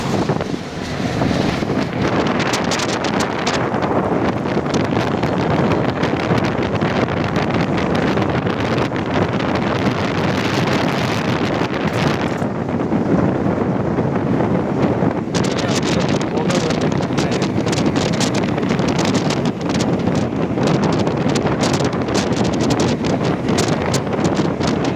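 Strong wind buffets the microphone in a continuous, loud roar with gusts surging and easing across the whole stretch, rustling sounds mixed in, no clear talk.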